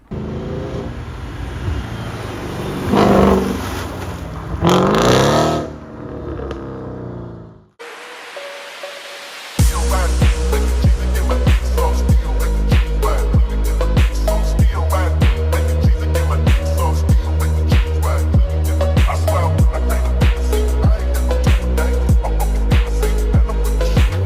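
Audi S5 with a 4.2 V8 engine, first a rushing roar with muffled sounds, then after a short gap a loud, steady idle with a pulsing rhythmic beat that continues to the end.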